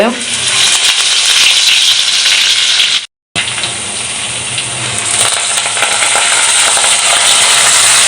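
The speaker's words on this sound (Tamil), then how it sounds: "எல்லாமே ஒன்றா போட்டாச்சு. நல்லா வதங்கட்டுக்கும். நல்லா வதங்கணும்," Onions, chillies and ginger-garlic paste sautéing with fennel seeds in a pan at a village crab cook, a loud continuous sizzle with a brief break midway, no talk heard.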